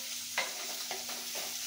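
Stir-frying in a pan for a puffed-rice breakfast dish gives a close, soft sizzle broken by three quick spatula scrapes.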